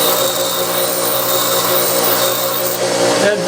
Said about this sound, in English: grind it out on the grinder